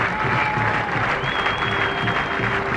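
A Sri Lankan cricket crowd applauds steadily as a West Indies or Sri Lanka batsman reaches his fifty in a 2001 tri-series match, a dense, even wash of clapping with a faint tonal whine running through it.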